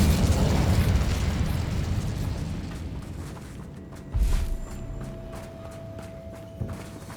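In Hogwarts Legacy, an Incendio fire spell bursts out as a loud, rumbling fiery blast that slowly fades, followed by a second short thump and softer crackling combat sounds.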